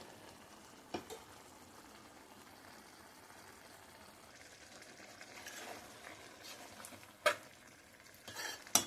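Prawn masala curry with coconut paste bubbles softly in a pan while a spoon stirs it, a faint low sizzle and scraping with a few sharper clinks of utensil against metal near the end; no talking.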